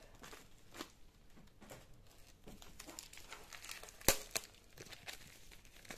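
A sealed envelope holding a diamond painting canvas is opened, with faint crinkling and paper rustles and a sharp tearing rip near the end, close and quiet.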